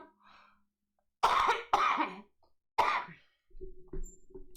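Three loud, harsh coughs come close together, followed by softer throat noises, with quiet moments in between.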